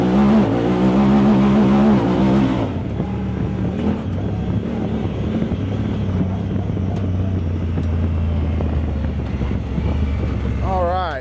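A Honda Talon side-by-side pulls hard down a straightaway, its loud engine note rising steadily and filling the clip, with wind and drivetrain noise close up and no talking over it.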